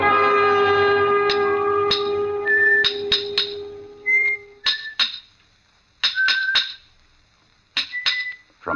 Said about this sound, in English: From the yard itself came a cheery whistle